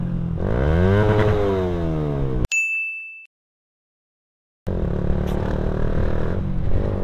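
Motorcycle on a Sunday group ride along the Pantura road in Java: the engine revs up with a rising whine, a sharp bell-like ding cuts in, a brief silence follows, then steady engine and road rumble returns.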